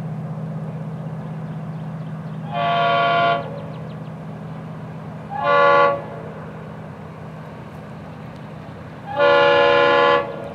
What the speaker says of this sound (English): A hard-working FEC920 local is coming toward us.